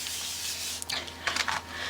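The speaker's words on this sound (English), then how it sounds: "This is the Loxley spray fixative." Loxley fixative spray from an aerosol can hisses over pastel artwork in a few short bursts near the end, close and fairly loud over a steady background hiss.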